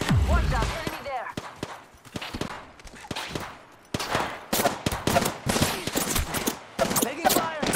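Bursts of rapid gunfire in the battle royale game Apex, sharp repeated volleys with short pauses, mixed with game voices calling out.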